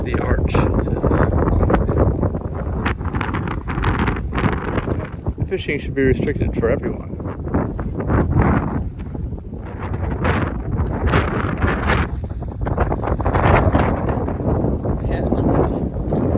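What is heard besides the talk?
strong wind at a sea arch, Hawaii Volcanoes National Park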